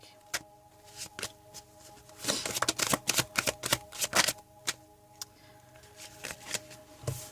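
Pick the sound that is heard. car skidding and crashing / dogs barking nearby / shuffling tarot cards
shuffling tarot cards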